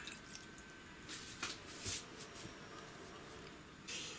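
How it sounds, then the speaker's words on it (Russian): Brine is poured over layered salted eggplants for cold pickling, giving soft, faint splashes and drips in short uneven bursts at close range. "Заливаем рассолом."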